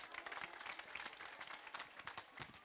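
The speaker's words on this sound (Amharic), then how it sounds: "አጨብጭቡ።" Scattered applause rises from a church congregation at a worship service, a faint, steady patter of clapping heard from a distance with no speech.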